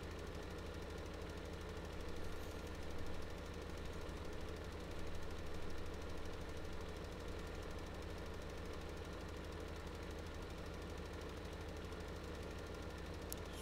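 Tractor engine in the farming video game Landwirtschafts-Simulator 15, a steady droning rumble with a knocking, rattling texture that holds evenly throughout, running alone without talk.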